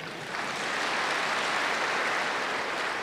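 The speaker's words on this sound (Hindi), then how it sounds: "इन सब के लिए ताली बजाए।" An assembled audience at a spiritual talk claps in a soft, continuous wash of applause, heard from a distance and holding steady throughout.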